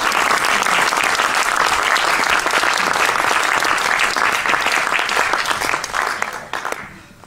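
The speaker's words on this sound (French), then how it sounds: "Vous pouvez l'applaudir" Loud, sustained applause fills the stage of a festival opening and prize ceremony as the audience greets a guest, a dense wash of many hands that fades away in the final second.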